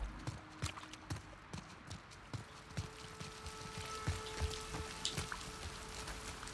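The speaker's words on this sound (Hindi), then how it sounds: "पानी कैसे गिर रहा है बारिश का?" Rain in The Last of Us Part 2 patters as scattered, irregular drops and splashes on hard surfaces, with a steady soft wash underneath, fairly quiet and alone.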